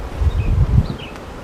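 Honey bees buzz up close during a beehive inspection, a brief wavering drone over low rumbling handling noise, with individual bees whining past.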